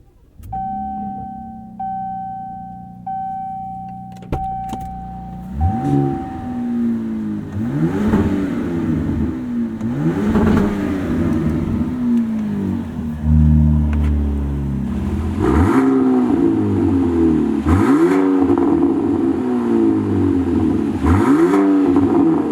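A 2026 Ram RHO truck with a Magnaflow performance exhaust starts up and drives, its loud engine rising and falling in repeated revving pulls through the gears, deep and throaty, with a brief chime early on before the engine takes over.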